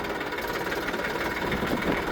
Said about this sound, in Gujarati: હવે ટ્રેક્ટર કાઢી લઈએ,